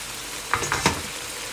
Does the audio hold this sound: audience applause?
no